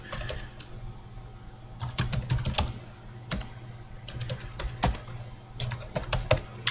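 Typing on a computer keyboard while entering an email signature, heard as close, bursty runs of clicking keystrokes separated by short pauses, alone without speech.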